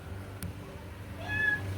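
A kitten trapped above a house ceiling panel gives a short, thin meow, faint and somewhat distant against a low room hum.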